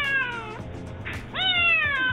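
A Bengal cat meows twice in quick succession, each call loud, close and drawn out, with a falling then rising pitch.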